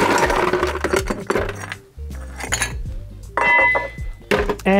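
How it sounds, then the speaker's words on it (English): Ice cubes and a big solid chunk of ice clink and knock against a fancy cocktail glass, several sharp, close, ringing hits with short pauses between them and no talk over them. "That's a big solid chunk of ice."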